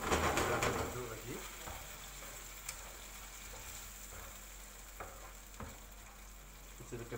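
Chicken seasoned with salt and pepper fries in a pan for barbecue-sauce roast chicken, a loud burst of sizzling at the start settling to a steady crackle, with occasional sharp scrapes and taps of stirring.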